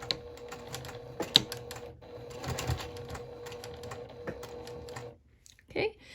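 A sewing machine stitches through several layers of a lanyard, giving a rapid, even mechanical patter in bursts with short pauses. The sound is fairly close and moderately quiet, and a voice briefly speaks at the end.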